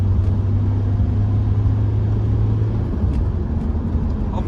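A BMW 1 Series car driving hard under turbo boost with a warning light on, its steady low engine and road rumble droning loudly and continuously throughout.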